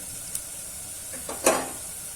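Potatoes sizzle in a hot pan for a ridge gourd and potato curry as turmeric powder goes in, a constant close frying hiss with a louder sputtering burst partway through.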